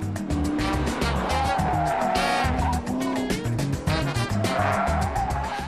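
Souped-up, heavily reworked VW Beetle driven hard on a racetrack, the engine revving and shifting continuously with tires squealing through the curves, loud and close throughout.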